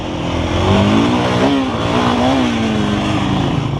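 A Forte Hornet enduro motorcycle revs hard in a wet, darkening forest, its engine note climbing and falling in a couple of loud, close throttle bursts.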